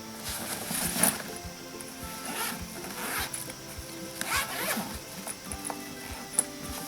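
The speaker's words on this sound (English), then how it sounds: "And that unzips all the way." The front pocket zipper on a Teamoy craft bag is pulled open in a series of short rasping runs, close and fairly quiet, with faint handling rubs between the pulls.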